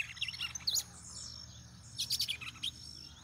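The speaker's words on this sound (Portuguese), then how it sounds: "Aqui uns galos também de Campina." Red-cowled cardinals (galo de campina) singing, with bright, quick chirps and short warbled phrases in two clusters separated by a brief pause, fairly close over a faint low background hum.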